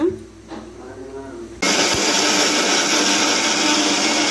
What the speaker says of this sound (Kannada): ಮತ್ತೆ ಬೆಳ್ಳುಳ್ಳಿ ಮತ್ತೆ ಶುಂಠಿ ಮತ್ತು ಹಸಿಮೆಣಸಿನ್ಕಾಯಿ ನುಣ್ಣಗೆ ಪೇಸ್ಟ್ ಮಾಡ್ಕೊಳೋಣ